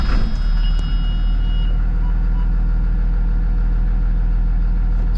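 A school bus converted into a show truck runs at a steady low idle just after the engine starts, with a brief warning tone at the start and a constant close rumble.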